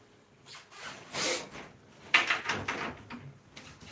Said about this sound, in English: Shut my door.